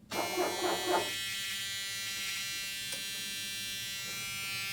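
A Dodge windshield wiper motor, newly regrounded, runs with a steady electric whine and hum, a brief louder burst at the start settling into an even, continuous drone close by.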